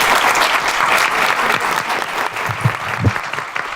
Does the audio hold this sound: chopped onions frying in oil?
no